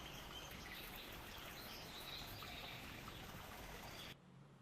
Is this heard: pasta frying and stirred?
no